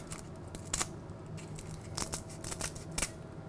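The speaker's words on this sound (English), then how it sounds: "I'm going to take a pair of scissors and we're just going to cut this up." Scissors snip through dried bay leaves in quick, irregular crisp cuts, close up, with faint leafy crackles between the sharper snips.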